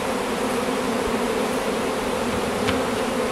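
A honey bee swarm buzzes loud and close in a dense, unbroken drone, the mass of wingbeats holding steady throughout with no talk.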